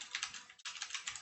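Fingers typing on a computer keyboard, a close, quick patter of key clicks with a brief pause in the middle.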